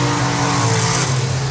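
A top fuel drag bike tears down the strip at a drag racing event at the 2024 Festival of Power, a loud, sustained engine roar that holds steady throughout.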